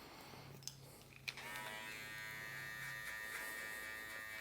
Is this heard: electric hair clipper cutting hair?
yes